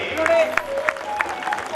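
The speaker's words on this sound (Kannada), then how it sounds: "ತಮ್ಮೆಲ್ಲರ ಒಂದು ಜೋರಾದ ಚಪ್ಪಾಳೆಯೊಂದಿಗೆ" An audience claps together at a religious commemoration honouring a revered swami, the applause a dense patter blended with a voice and ringing tones, moderately loud and steady for under two seconds.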